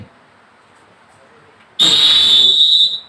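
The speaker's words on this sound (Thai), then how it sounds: "ตำรวจจะเป่าลูกบีดแบบดัง" After a quiet stretch, a Thai traffic police whistle gives one sharp, loud, shrill blast lasting about a second before cutting off.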